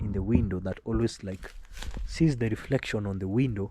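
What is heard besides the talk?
No everyday noises stand out.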